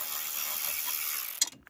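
A ratchet with a 7mm socket turns a fastener on the front bumper of a 2016 Chevy Trax, giving a rapid, steady close clicking for over a second that stops abruptly with a few last clicks.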